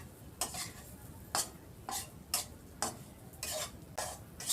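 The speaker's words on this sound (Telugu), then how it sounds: "మొత్తం దీని మీద వేసుకొని మనం కలుపుకుందాం ఇది." Stuffed bitter gourd fry dusted with spice powder being stirred in a pan, a series of sharp scraping strokes about once a second over a faint sizzle, close but fairly soft, with no voices.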